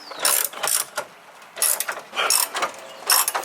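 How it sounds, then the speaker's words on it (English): A ratchet wrench loosens rear bumper bolts on a Toyota Tacoma, sounding as quick bursts of rapid metallic clicking in four separate runs with short pauses between, close and fairly loud, no talking. "now what we have to do is loosen about 14 bolts"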